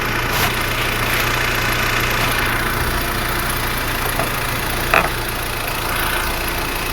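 A 2013 BMW X1 engine idles with a steady low hum and faint mechanical vibration, recorded close up and even throughout, with one brief click near the end.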